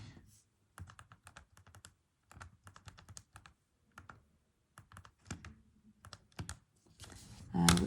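Keys tapped on a calculator in short clustered bursts of light clicks separated by brief pauses, close and quiet, ending with a louder rustle.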